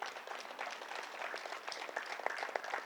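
An audience claps at a Guru Purnima celebration gathering, a fairly faint, dense patter of many hands applauding together, heard from some distance.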